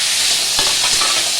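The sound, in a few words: fried vegetables sizzling as they are added and stirred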